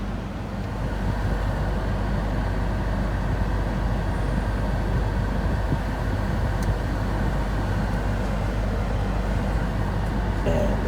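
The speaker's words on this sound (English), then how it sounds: "I hear a lot of noise with the blower at a high fan." The HVAC blower fan of a Nissan Murano runs at high speed, a steady, dense broadband rush of air that stays loud and unchanging throughout.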